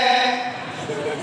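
During a mosque lecture, a voice imitates a goat bleating, one sustained wavering nasal call that fills the whole moment, loud and close.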